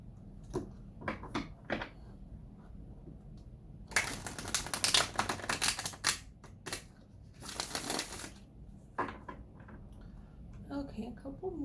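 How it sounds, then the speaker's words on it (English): Tarot cards are shuffled with brisk riffling bursts and scattered taps, the heaviest flurries in the middle stretch, recorded close and fairly quiet. "Okay, a couple more shuffles."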